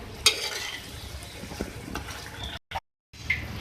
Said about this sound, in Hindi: इसे मिक्स कर लें।